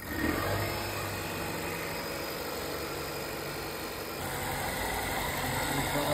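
A Volvo V90 engine idles steadily after starting, a smooth mid-pitched hum with a faint rise in level toward the end, heard up close and without talk.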